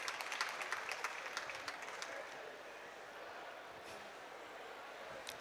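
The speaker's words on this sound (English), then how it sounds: "A round of applause for him, please." An audience applauding at an award ceremony at COP27, a steady distant wash of many clapping hands that holds at an even level and then gently fades.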